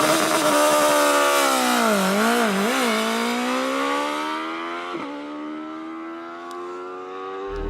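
A 2019 BMW S1000RR motorcycle engine held on launch control, a loud, steady high-pitched howl that dips and wavers in pitch, then settles into a sustained rev that fades slightly toward the end.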